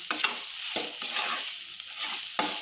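Mashed cauliflower is being stirred in a hot pan with half spoons of ground cumin and ground coriander, giving close, continuous scraping and a soft sizzle with a few sharper spatula knocks and no talking.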